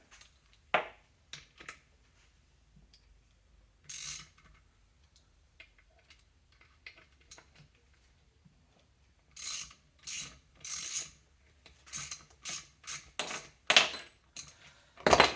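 Ratchet wrench clicks and metal tool noises while Allen bolts holding the generator are removed from a BMW R60/2 motorcycle engine, scattered light ticks early, then repeated bursts of loud ratcheting close by, no speech.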